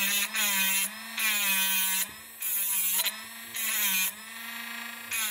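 A small multifunction power tool runs in repeated bursts of whining motor tone, starting and stopping about five times with short pauses between, close and fairly loud.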